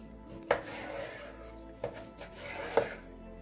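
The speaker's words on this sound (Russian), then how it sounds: "Нарезаем мясо." Three sharp knife chops through pork land on a cutting board at uneven intervals, close and distinct over a quiet background.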